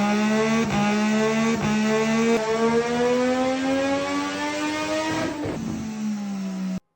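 A Triumph Street Triple 765 RS motorcycle with standard headers and a Lextech decat and silencer revs close by, its pitch rising steadily and then dropping. A few sharp pops cut through the loud, continuous engine note.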